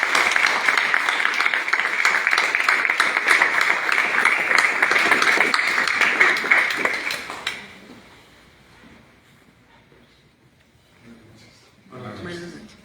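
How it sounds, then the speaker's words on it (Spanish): Audience applause at a conversatorio (panel discussion): sustained, fairly loud clapping for about seven seconds that fades out, followed by quiet room tone and faint voices near the end. "Un aplauso, chicos."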